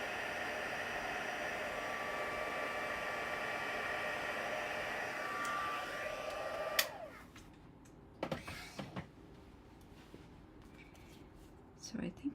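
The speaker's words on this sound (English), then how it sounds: "just heat setting this with the embossing powder" A heat tool sets embossing powder on a handmade card with a steady, airy roar for about seven seconds, then cuts off, leaving faint handling clicks and taps.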